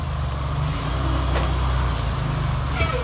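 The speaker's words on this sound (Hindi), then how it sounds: "फायर इंजन वाले आ गए" A fire engine's heavy diesel engine idles with a low, steady rumble at a roadblock where a fallen tree lies across a car during a storm, with a faint squeal near the end.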